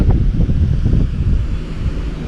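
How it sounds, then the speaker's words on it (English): Strong wind buffets the microphone at a giant spillway during kayak fishing, a loud steady low rumble with gusty surges and no voices. "So, whew, it's windy over here even."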